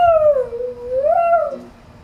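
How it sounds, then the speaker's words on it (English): A dog howls in one long, loud, wavering tone that dips and rises again before fading out, heard close and alone without talk. "Suddenly, a howl came up from the ground."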